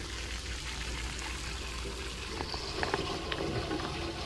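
Hot water streams steadily from a portable water heater, a constant rushing hiss that runs unbroken and close.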